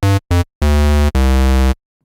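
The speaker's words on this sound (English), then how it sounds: "So a fairly basic patch with just a single oscillator outputting a square wave." Loud, buzzy square-wave tones from a single-oscillator patch on the Arturia ARP 2600 V software synth: two short blips followed by two longer held notes, all clean with abrupt starts and stops and no voices.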